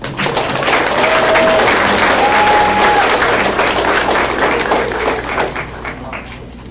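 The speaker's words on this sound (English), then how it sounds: "let's give them a round of applause" Steady, dense audience applause at a Mercer County Schools competition event, filling the room with continuous clapping from many hands that holds loud and even before tapering slightly toward the end.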